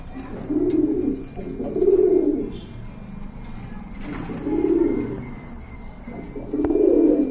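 Domestic pigeons coo in repeated soft, throaty rounds at a pet shop, close and clear, with a low room hum in between.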